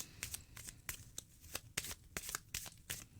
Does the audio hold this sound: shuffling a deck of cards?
yes